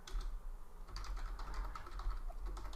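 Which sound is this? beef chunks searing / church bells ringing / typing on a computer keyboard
typing on a computer keyboard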